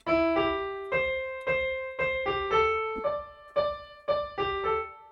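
A keyboard runs through a Ganesh Aarti passage at full original tempo, with quick, evenly spaced struck notes that ring bright and sustained, played solo and close with no voices over it.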